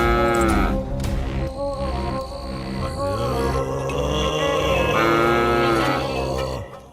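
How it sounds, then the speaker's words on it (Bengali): Cattle lowing at night near a garden, several long, loud moos following one another close by over a faint background of insects. "এ কি, এত রাতে গরু ডাকছে কোথায়?"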